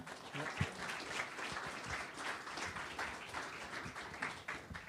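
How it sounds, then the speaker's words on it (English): An audience at a CADD workspace conference session gives a closing round of applause, a faint, distant, even patter of clapping sustained for about five seconds. "One more round of applause for Vaseem and Everett."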